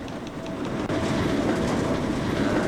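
A train in the Trainz simulator on the Scottish East Coast Main Line, the Evening Star service to Edinburgh, rumbles steadily along the rails with a loud, continuous rolling roar and faint rhythmic wheel clatter throughout.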